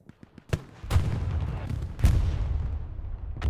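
Artillery fire in Hell Let Loose during a town-center fight, with several heavy booms and shots. Two big blasts roll out into a long rumbling tail, and a few sharp cracks come before and after them.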